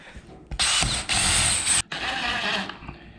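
Cordless power drill driving screws into a Pella 150 vinyl replacement window frame, several loud bursts of whirring with brief pauses between them, close by.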